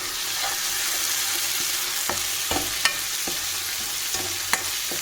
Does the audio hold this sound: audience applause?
no